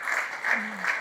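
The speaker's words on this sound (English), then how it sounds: "Give him a round of applause." A short burst of audience applause at a live talk show in Newcastle, moderately faint and uneven with a few louder swells, with brief voices mixed in.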